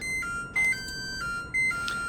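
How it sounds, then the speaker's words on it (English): Two short, loud electronic beeps from a kitchen timer, each about a fifth of a second and a second apart, ending an eleven-minute bake of chocolate chip cookies in a home kitchen. "All right, timer is done."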